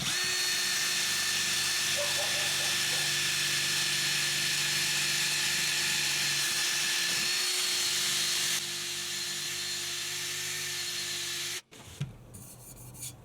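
A Scotch-Brite pad scrubs the exhaust pipe of a Yamaha Virago 250 motorcycle in a close, continuous abrasive whir with a steady rhythmic rasp, ending abruptly in a brief clatter.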